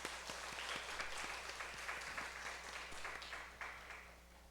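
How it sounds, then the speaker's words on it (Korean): Congregation applause during a Sunday church service at Dongwon Church in Pil-dong, a steady wash of many hands clapping at moderate distance, fairly soft and continuous, fading slightly toward the end. "박수 한번 쳐줍시다"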